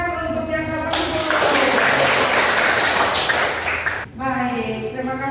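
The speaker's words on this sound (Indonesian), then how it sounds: "Tepuk tangan untuk yang 80." A classroom of students claps together for about three seconds, close and fairly loud, with a teacher's voice heard before and after.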